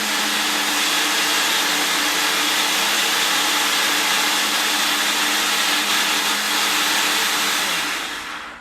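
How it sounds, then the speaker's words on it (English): A loud, steady motorized whirring of a blender blending a small amount of ranch dressing, running continuously, then winding down at the very end. "And now I'm gonna blend it up."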